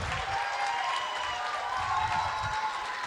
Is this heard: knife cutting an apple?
no